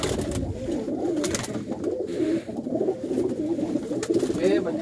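A pigeon with white eyelids and black eyes gives repeated low, throaty coos close by, while someone talks steadily over it.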